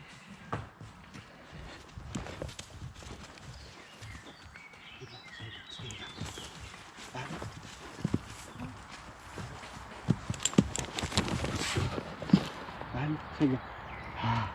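Horse hooves clip-clopping on the ground, uneven thuds and knocks that grow more distinct later, mixed with faint birdsong and close movement noise.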